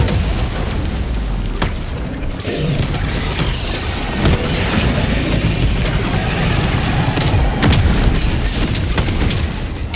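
Gas strike explosions go off in Helldivers 2, a continuous roar of booms and bursts layered with mechanical clatter, loud throughout with no quiet gaps.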